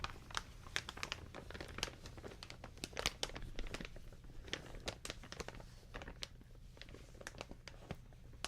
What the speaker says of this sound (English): The lower sort of pitched crinkle while I whisper over here.